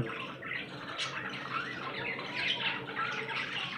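Several birds squawking and chirping in quick, overlapping bursts, fairly close, with a faint watery background.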